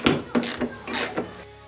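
Wrench work on a 10 mm bolt atop a snorkel on a 2017 Toyota Tacoma, giving several short metallic clicks and ratcheting bursts close by, spaced unevenly over a couple of seconds.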